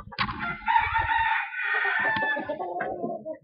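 Roosters crowing in a long, drawn-out call, loud and close, with clucking and other fowl noises underneath.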